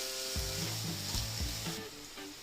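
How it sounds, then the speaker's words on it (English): Finely chopped onions and green chilies sizzle steadily in hot oil for a masala prawn curry, with a few soft scraping strokes as the pan is stirred, close and continuous. "Now is the time to add 4 finely chopped onions to the oil along with the green chilies. Now mix well."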